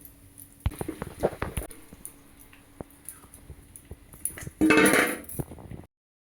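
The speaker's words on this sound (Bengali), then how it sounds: "এখন আমি মাংসটা ঢেলে দিচ্ছি" Mutton poured into a pot of hot mustard oil and whole spices: clattering metal clinks and knocks, then a loud, sudden burst of sizzling that cuts off abruptly.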